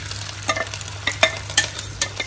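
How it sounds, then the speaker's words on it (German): Grated raw potatoes sizzle in butter and vegetable fat in a frying pan for rösti, a constant crackling hiss broken by several sharp scraping stirs, close and loud. "Da geben wir jetzt unsere geriebenen Kartoffeln hinein."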